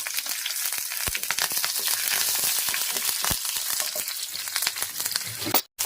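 Dried red chillies and curry leaves crackle and sizzle in hot oil in a Kerala kitchen, a steady dense frying hiss with sharp pops throughout, close and fairly loud, cutting off briefly near the end.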